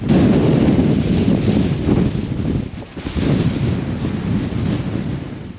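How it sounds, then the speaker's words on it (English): Strong wind buffets the microphone while fishing from the shore with a rod held out, a loud continuous roar that surges and briefly dips before gusting hard again. "I'm trying to stop the wind from pulling it around. God, that is so strong."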